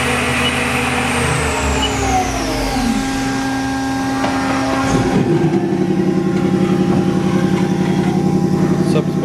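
A 1999 Haas TL-15 CNC lathe spindle, 23.5-inch swing, winds up toward 5,000 RPM, a rising whine that steadies into a loud continuous mechanical hum with a tonal drone.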